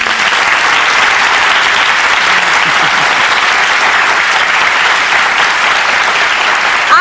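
A studio audience at a daytime talk show applauds loudly and steadily as guests are welcomed, a dense, even wash of clapping that holds for several seconds without a break.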